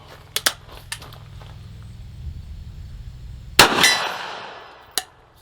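A Rossi Brawler .410 pistol fires at outdoor targets: a few sharp shots early, then one loud close blast with a long ringing decay, and a final shot near the end, with faint background hum between.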